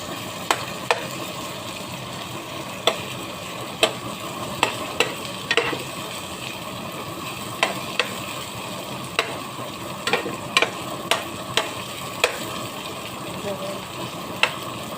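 Leftover adobo browning in a pan: a constant sizzle of frying with sharp, irregular clicks and scrapes of a spoon against the pan.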